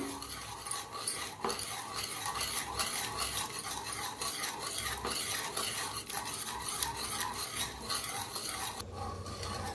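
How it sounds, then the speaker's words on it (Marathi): Gram flour being stirred into cooked dill greens in a pan, a rhythmic run of close scraping and rasping spoon strokes throughout with faint sizzling underneath and no voices. "अर्धी वाटी बेसन पीठ घेतलेलं आहे ते ह्याच्यात ओतूया छान असं मिक्स करूया"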